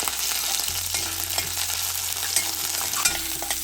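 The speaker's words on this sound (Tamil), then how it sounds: "இதை நல்லா ஒரு 2 to 3 மினிட்ஸ் இந்த எண்ணெயில் நல்லா வறுத்துருங்க" Shallots, garlic and ginger fry in oil with a steady, close sizzle and a few stirring scrapes throughout, and no voices are heard.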